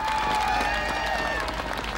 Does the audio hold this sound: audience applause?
yes